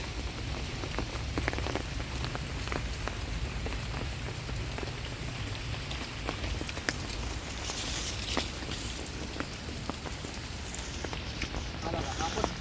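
Steady rain pattering on vines and areca palms on a farm, a dense continuous hiss with scattered sharper drops, close by and unbroken throughout.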